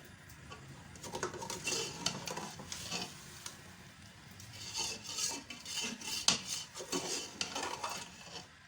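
A spoon stirs ginger, garlic and tomato paste with spices in a karahi for desi chicken, with steady scraping and soft sizzling, occasional sharper metal clinks, and no talking.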